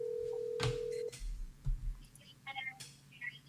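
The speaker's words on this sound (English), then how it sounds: "I'm gonna call my sister right now" A telephone being dialed to place a call, with a steady tone and then short key beeps and clicks, close and fairly quiet, with faint whispery voices between the tones.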